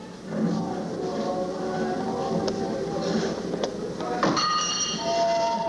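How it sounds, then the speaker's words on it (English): A train arrival sound effect plays during a high school stage production of The Music Man, a loud rumbling rail roar with clanks and squealing wheel tones building toward the end. "There's your train."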